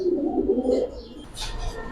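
Giribaz pigeons at a seller's loft give low, rolling coos, close and distinct, followed by a brief softer flutter of sound.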